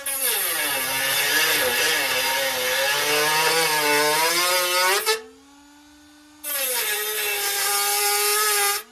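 A power cutter whines loudly and steadily through old welds on a rust repair panel of a 1972 VW Beetle, stopping briefly and then cutting again.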